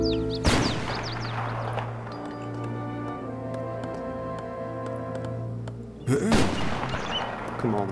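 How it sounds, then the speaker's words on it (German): Two heavy, booming heavy-cannon blasts in Age of Empires 3 about six seconds apart, each with a sharp attack and a long rumbling tail, over a steady droning game soundtrack. "Eine schwere Kanone."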